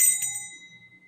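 A small bell struck twice close by, bright ringing tones that decay over about a second in a quiet room.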